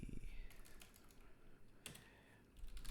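Rapid clicking of keys on a computer keyboard, quiet and continuous with light irregular taps, a faint voice murmuring underneath.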